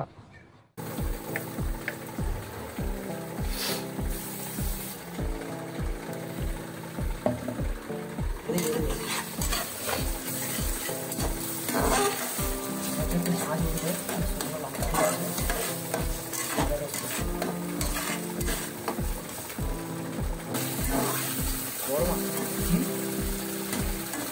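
Ginger and garlic fry in a hot pan with a steady sizzle while a spatula scrapes and stirs in repeated rhythmic strokes, close and continuous, with occasional voices in the background.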